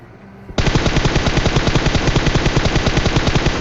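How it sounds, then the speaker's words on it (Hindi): Automatic gunfire in a battle royale video game, a loud sustained rapid burst of shots beginning abruptly and continuing without pause. "दूसरी तरफ से भी फायर हो रहा था इन लोगों पे"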